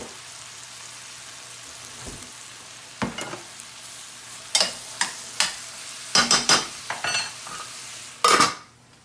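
Vegetables cook quietly in a pan under a faint sizzle, broken by a series of sharp utensil scrapes and clacks against the pan, with no talking.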